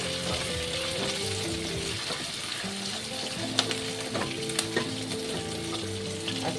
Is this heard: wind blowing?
no